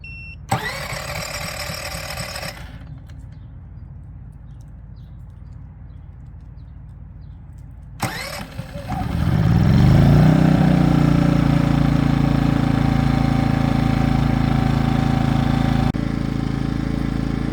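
An EcoFlow Smart Generator is started electrically: a short burst of starter noise, a pause, then the engine catches and settles into a loud, steady running drone with no talk.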